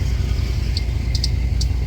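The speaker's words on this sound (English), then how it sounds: "that sound is a loose belt tensioner that has to be replaced." An engine idles with a low rumble while several short, high chirping squeaks come from the running belt, caused by a loose belt tensioner.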